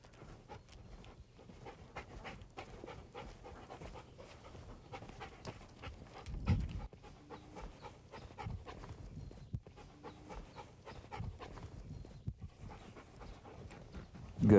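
A dog pants quietly and steadily through a dog-training session on holding and fetching, with soft rustles and footfalls around it.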